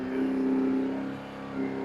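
A Kawasaki ER6f motorcycle with a headlight fault revs up close, its engine note rising and holding steady for a moment, easing off and then lifting again in a short second rev, heard alone.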